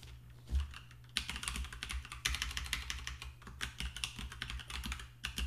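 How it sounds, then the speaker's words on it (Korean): Clicky computer keyboard typing, close and fairly quiet. It comes as irregular bursts of sharp keystrokes with short pauses between them, and there is no talking. "키보드가 약간 소리가 좀 나는 키보드여서"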